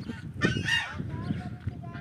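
A duck tossed into a pond gives a loud, nasal honking burst about half a second in, then the call trails off into quieter outdoor background noise.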